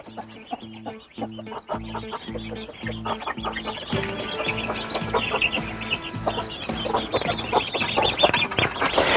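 Chickens cluck repeatedly nearby in short, rhythmic bursts, growing busier and louder with several birds chattering together.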